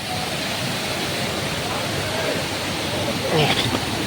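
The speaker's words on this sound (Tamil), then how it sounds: "ஃபால்ஸை நம்ம நெருங்கிட்டோம்னு நினைக்கிறேன். தண்ணி சத்தம் அதிகமாக இருக்குது." A waterfall in a forest in Kanyakumari district roars as a steady, broad rushing wash of water, loud and continuous, with a faint voice briefly under it.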